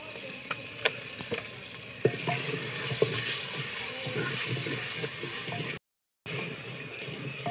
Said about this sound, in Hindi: मसाले को तड़का लग चुका है